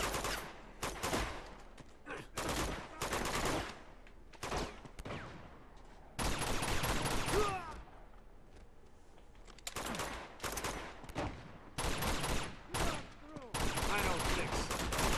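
Gunfire from the video game Uncharted 2 rattles in repeated loud bursts of rapid shots, broken by short pauses, with some talk at times.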